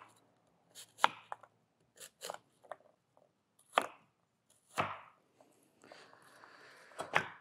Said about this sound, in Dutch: Appel gaat in twee stukken.